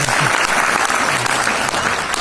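An audience at a marketing company speech breaks into sustained, even applause, a dense wash of many hands clapping with no voices on top.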